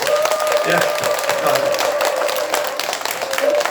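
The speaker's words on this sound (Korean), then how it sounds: "우리 격려의 박수를 한번 보냅니다" Audience applause fills a Buddhist temple hall during a memorial ceremony, dense and sustained, with a tonal hum and some voices mixed in.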